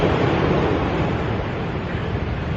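Sea waves wash onto the shingle shore at Felixstowe in a steady, loud broadband rush, with no voices present.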